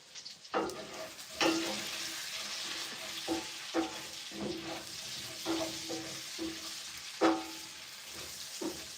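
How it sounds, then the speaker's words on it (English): Potatoes being stirred in a pot over a fire at a cabin. Repeated scraping strokes come roughly every second, fairly faint and close, over a soft sizzle with no talk. "I gotta stir my potatoes."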